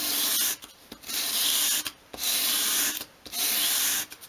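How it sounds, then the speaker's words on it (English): A small wooden piece is swept across sandpaper at an angle to bevel its edge, giving four steady rasping strokes with short gaps between them, close and alone. "just hold the piece against a piece of sandpaper at a 45-degree angle and just sweep it towards you"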